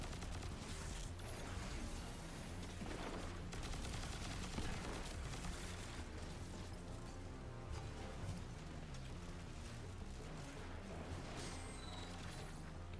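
Heavy, relentless weapon fire in Destiny 2, rattling shots layered over mechanical clanks and thumping game noise, with no speech.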